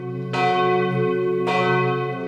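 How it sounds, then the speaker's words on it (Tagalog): Two loud strikes of a cathedral bell in Oriental Mindoro at 5 a.m., each followed by a long humming ring that overlaps the next. "tumutunog ang kampana"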